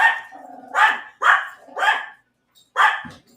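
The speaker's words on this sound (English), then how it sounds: "That's the dogs, because the dogs are getting there." Dogs bark close by in a quick run of about five loud, sharp barks with short gaps between them, and no voices are heard.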